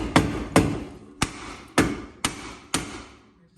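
Six sharp hammer blows ring out on metal during wheel hub replacement on an Infiniti G37, at uneven intervals, each a hard clank that quickly decays.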